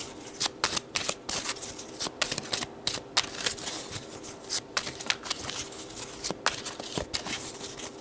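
Advice cards are shuffled by hand in a tarot-style reading, giving rapid crisp riffling bursts and snaps repeating in irregular clusters, close and fairly quiet, with no talking.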